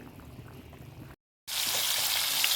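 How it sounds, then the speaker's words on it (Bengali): A fish head drops into hot oil in a pan and erupts into a loud, steady frying hiss after a brief silence, with a quieter bubbling pot of fish curry heard beforehand. "মাছের মাথাটা দিয়ে দিলাম ভাজা করতে"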